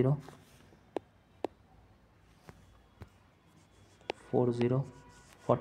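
Numbers written by hand on a surface, a few short separate pen taps and strokes spaced out over quiet room tone, with a person talking near the end.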